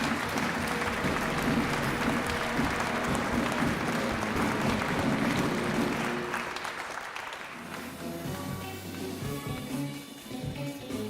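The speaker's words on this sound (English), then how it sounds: "Please give a round of applause for 3rd place, Anthony Davidson, and 2nd place, Sebastian Buemi and Kazuki Nakajima" Audience applause at the FIA Prize Giving gala in Paris for the third and second place winners, a dense, steady wash of clapping that thins and fades after about six seconds, leaving quieter room sound.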